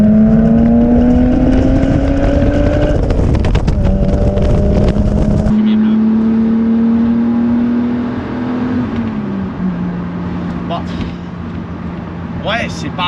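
A BMW six-cylinder car engine revs up with rising pitch, drops as the gear changes, then pulls steadily on and fades slightly, heard close and loud with people talking over it.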